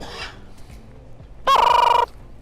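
A pet fruit-eating bird calls twice: a short nasal squawk, then after a pause a louder, sustained harsh rattling cry, close by and with no speech.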